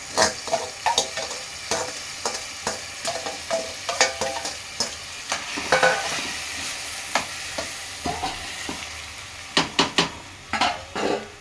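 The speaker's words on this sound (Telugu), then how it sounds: "చికెన్ బియ్యం వేసి ఫ్రై చేద్దాం." Chicken and rice frying together in a pot for double masala chicken biryani, a soft sizzle under repeated scraping stirs and sharp clinks of a spoon against the pan, no talking.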